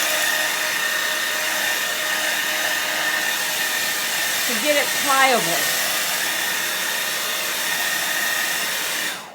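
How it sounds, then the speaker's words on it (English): A hair dryer blows steadily and loudly up close, warming a plastic lid hinge on a pet carrier to soften it. The hiss runs without a break, and a voice speaks briefly partway through. "use a hair dryer"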